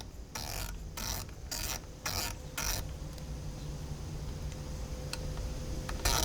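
The windage turret on an Athlon Ares ETR UHD 3-18x50 FFP rifle scope being turned, giving a run of quick crisp clicks in short bursts, close up, followed by faint sparse ticks over a low background hum.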